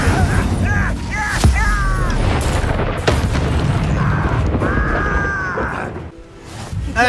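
An Incendio fire spell bursting in the Hogwarts Legacy video game: a loud, sharp boom followed by crackling and rumbling effects, with other magical game sounds and brief crashes layered around it.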